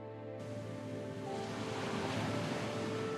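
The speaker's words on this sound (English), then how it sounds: "Can you guys hear Ocean?" Ocean waves ambience playing during a tabletop fantasy role-playing session: a steady, even wash of surf noise that swells in after a brief quiet start and holds at moderate loudness.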